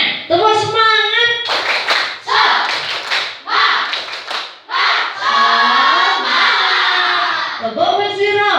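An Indonesian classroom of children performs a rhythmic spirit clap chant, sharp group claps alternating with loud chanted voices in a steady pattern, close and energetic, with the teacher's voice at the start and end.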